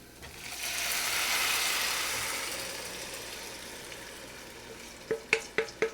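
Tomatoes tipped into a pot of simmering tomato pasta sauce bring a soft, swelling sizzle, then a spoon stirs with four quick rhythmic scrapes and knocks against the pot.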